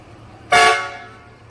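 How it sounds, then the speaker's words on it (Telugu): A single loud car horn blast sounds close by, starting abruptly and holding for about a second before fading out, with faint background hum. "కారు హారన్ ఒకసారి మీరు కూడా వినండి"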